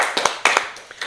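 A church congregation claps hands in thanks, a short burst of scattered, close claps with uneven rhythm and no talk over it.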